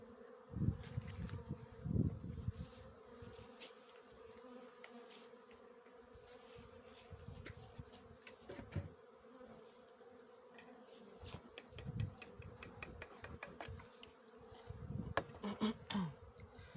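Honey bees buzz in an opened beehive that feels too light, its colony short of honey after winter, a steady close swarm hum with faint knocks and shifts and no talking.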